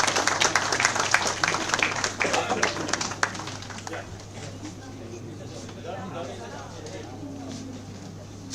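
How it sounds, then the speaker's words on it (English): Audience at a seminar breaks into applause, a dense clapping wash for the first few seconds that fades into quieter room murmur and scattered claps. "Can we have a big round of applause?"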